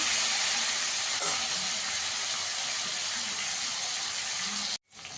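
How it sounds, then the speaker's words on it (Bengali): Steady, loud hiss of potatoes frying in hot oil, continuous and close, cutting off abruptly near the end. "আলুটাকেও একটু ভেজে নেবো ভালো করে"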